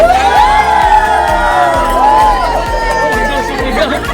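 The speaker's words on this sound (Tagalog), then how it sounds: "Mas lumakas na yung sigaw na." A crowd of Filipino Runners United members at a learn-to-swim program event shouts and cheers loudly and continuously, voices whooping over a steady rhythmic beat of background music.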